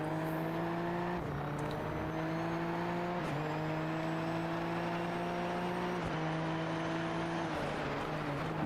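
Onboard engine of a Super Formula race car in sim racing, heard from the nose cone while chasing the leader: a loud, close, steady tonal whine that drops abruptly several times at gear shifts and then climbs again.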